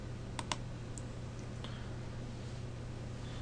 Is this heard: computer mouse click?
yes